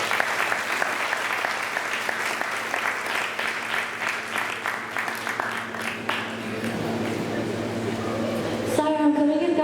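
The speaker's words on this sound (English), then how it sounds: "Siren, can we give Gayathri Ben another round of applause?" Sustained applause from a crowd at a Ladies Day event, dense clapping that gradually thins out, with a voice starting up at the very end.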